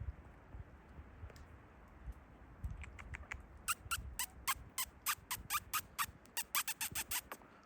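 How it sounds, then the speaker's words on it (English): Wild turkeys in the woods along the Appalachian Trail near the Smokies make a run of short, sharp calls that grow denser toward the end, fairly faint and distant over a low rustling background with no talk. "And we've got some turkeys, some wild turkeys."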